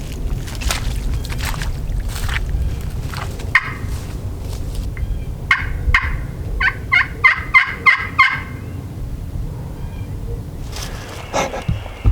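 A wild turkey gobbles in a quick rattling burst about 100 yards off during a spring hunt on Georgia public land, over steady outdoor background noise and rustling.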